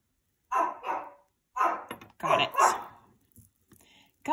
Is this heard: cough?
no